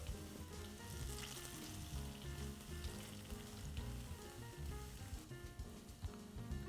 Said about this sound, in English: we're going to fry these for about 1 minute, where we're just looking for a light brown color on the outside